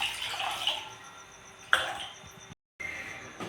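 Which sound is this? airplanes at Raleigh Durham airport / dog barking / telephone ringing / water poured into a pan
water poured into a pan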